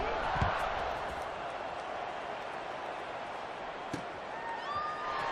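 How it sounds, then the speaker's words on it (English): American football stadium crowd buzzing after a score, a steady far-off roar of many voices with a couple of brief sharp knocks and a faint whistle-like tone near the end. "this crowd is buzzing after that last score"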